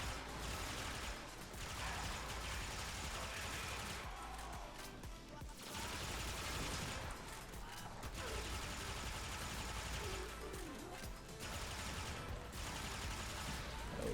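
Akstiletto Prime gunfire in Warframe, a dense stream of rapid automatic shots and crackling impacts running almost continuously, broken by a few brief lulls, loud and busy with combat clatter.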